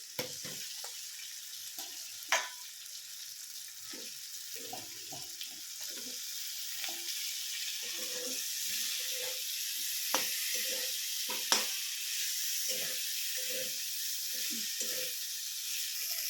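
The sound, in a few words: okra frying and being stirred in a pan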